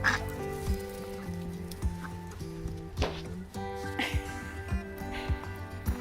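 Ducks quack in short bursts amid a busy farmyard with other fowl, while someone talks nearby over the chatter of the birds, as mealworms are handed out.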